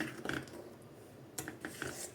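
A ladle clinks and scrapes against a metal pot while badam milk is stirred, producing a few faint, intermittent metallic taps and scrapes.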